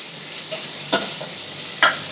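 Tomatoes go into onions already frying for quail gravy, and a steady sizzle hisses throughout. Two or three brief stirring scrapes break through the frying noise, close by and at moderate level, with no voices.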